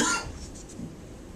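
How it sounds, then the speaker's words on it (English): A single short cough from an adult man getting over a cold, close to the microphone, with a brief raspy burst at the start and then quiet room tone. "I still got a bit of a cough"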